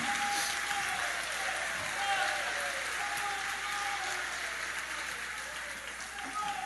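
Church congregation applauding steadily, a fairly faint, even wash of clapping with a sustained voice or tone running over it.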